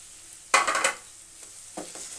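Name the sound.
onions roasting and being stirred in pan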